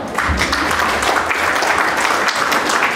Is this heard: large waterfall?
no